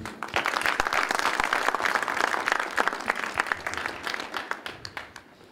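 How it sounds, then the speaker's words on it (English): Audience applause at a meeting where a presidential spokesman addresses the gathering: dense, sustained clapping from many hands filling the room, tapering to scattered claps near the end. "So we must clap for the team."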